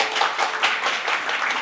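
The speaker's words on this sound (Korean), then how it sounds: "정말 다시 한번 박수 드리겠습니다" A forum audience in Ulsan gives a round of applause, dense close-up clapping from many hands, lively and sustained across the moment with no talking over it.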